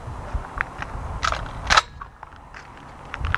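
A shotgun fires at clay pigeons on an outdoor shooting range, one sharp, fairly distant bang standing out over faint background noise.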